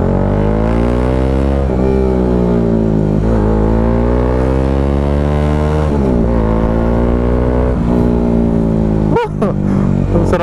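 A Bajaj Dominar 400 motorcycle fitted with a custom 61mm exhaust pipe revs up close and loud, its deep throaty drone rising and falling through several throttle blips before a sharp cut near the end.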